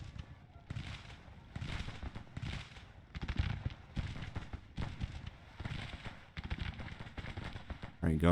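Civil War artillery guns in the Grand Tactician: The Civil War battle at Glorieta Pass fire in a run of heavy, booming bursts spread across the clip, with distant rumbling between shots.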